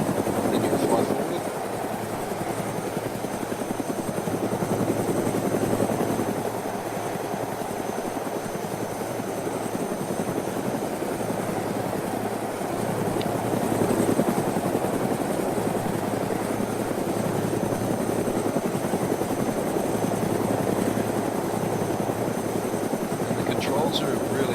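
Helicopter in the video game ArmA II DayZ, a continuous loud rotor and engine drone that holds steady for the whole stretch without letting up.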